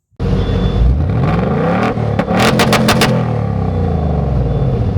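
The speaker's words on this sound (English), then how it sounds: "Finally driving the Ford Mustang GT V8. I mean, look at the sound." A 2024 Ford Mustang GT with a V8 engine fires up and pulls away. The engine roars loudly and close, revving hard through rising pitches with a brief shift, then holds a deep, steady drone.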